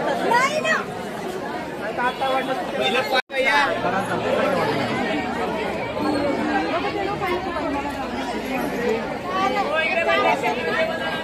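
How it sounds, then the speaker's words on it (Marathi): Dense crowd chatter fills a busy temple festival at Jejuri, with many overlapping voices forming a steady hubbub throughout and one brief dropout near the start. "गाईज गर्दी बघा किती इकडे"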